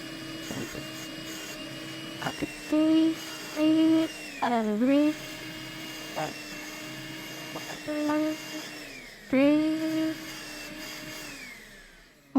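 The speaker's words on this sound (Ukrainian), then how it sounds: "зараз включу пилосос, покажу, наскільки він втягує" A Makita DCL180Z cordless bagless vacuum cleaner whines steadily at close range, its pitch dipping and rising as suction changes, with brief speech in between.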